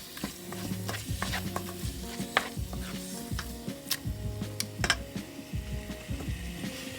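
Thick red biryani paste cooking in a pot for Buffalo-style chicken biryani, with a soft bubbling sizzle under repeated scraping and knocking as a spoon stirs it, close and moderately quiet.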